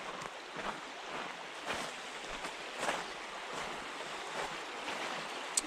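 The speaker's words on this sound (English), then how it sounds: "And this is the river." A river runs steadily beside a forest trail of hemlocks, a soft continuous wash of flowing water heard faintly and evenly with small splashes and no talk.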